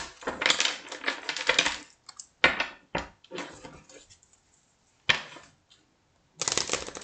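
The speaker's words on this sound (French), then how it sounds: "je vais vous tirer quelques cartes" Oracle cards being shuffled and drawn during a tarot-style reading, heard as crisp papery bursts of riffling and slapping in several separate clusters, close up, with short silent gaps between them and no voices.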